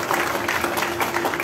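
Audience applause at an Indonesian political declaration gathering for Ganjar supporters, a dense, continuous wash of clapping from a crowd, loud and sustained throughout.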